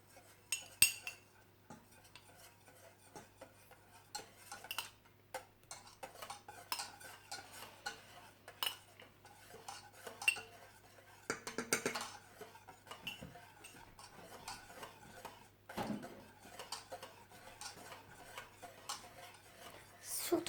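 A utensil stirs chocolate glaze in a pan while gelatin is added, giving faint, irregular clinks and scrapes over a low steady hum.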